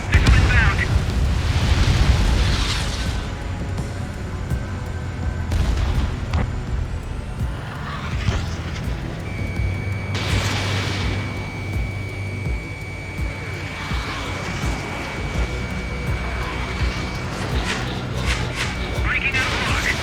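In Ace Combat 7: Skies Unknown, a jet fighter roars through a dogfight as incoming missiles burst in several heavy booms, with radio chatter and warning tones over the steady engine noise.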